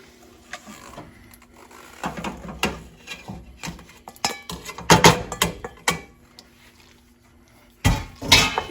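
Beef is stirred into mac and cheese in a pot, a series of uneven metallic scrapes, clinks and clacks of a utensil against the pot with short pauses and a final flurry of knocks.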